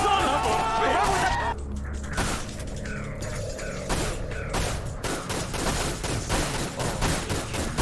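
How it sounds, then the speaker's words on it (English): Dual-wielded pistol fire in the video game Dirge of Cerberus, rapid clattering bursts of shots over mechanical game noise, continuous and fairly loud throughout. "He's got his own dual-wielding pistols"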